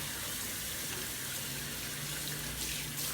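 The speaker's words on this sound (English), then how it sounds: "I'm going to go ahead and rinse that off." Cold tap water runs steadily over a handmade cold process soap lather as it is rinsed off, a continuous close splashing flow with no talking.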